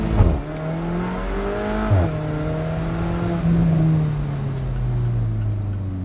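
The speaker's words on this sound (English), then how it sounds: "if you want a quick launch, you almost have to give it some gas" A 2017 Alfa Romeo 4C Spider engine revs up, briefly drops as it shifts, then pulls hard with a steady, loud, rising drone.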